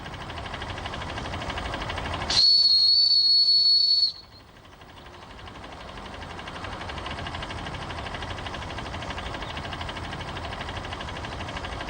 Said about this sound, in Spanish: La máquina de vapor cambió el mundo.